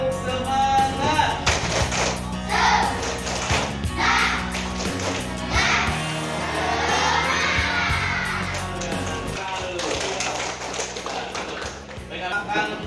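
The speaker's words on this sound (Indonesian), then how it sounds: "Tepuk semangat." A group of schoolchildren does a rhythmic clapping cheer, clapping in a quick pattern, chanting and shouting along in unison, loud and close throughout.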